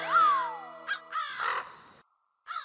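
Cartoon crows caw loudly in a Motu Patlu episode, several harsh calls in quick succession, with a short pause before one more caw.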